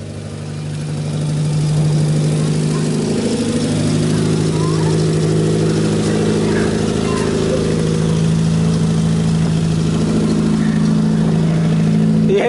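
A car bought at auction for $1,700 runs steadily while driving, its engine a continuous low hum with a slight lift in revs. The engine holds close and even for the whole stretch, and voices may be faintly present.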